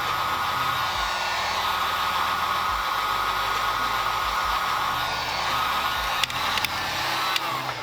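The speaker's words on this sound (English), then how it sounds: "with the heat gun and the scraper," A heat gun blowing hot air onto stickers on a videocassette box, a loud steady whooshing hiss with an underlying motor hum, ending in a couple of small clicks.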